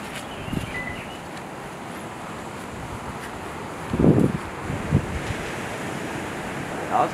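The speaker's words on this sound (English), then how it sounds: "we got waves at Rockies" Ocean surf rolling in at Rockies beach, a steady wash of waves with wind buffeting the microphone and a few louder surges breaking nearby.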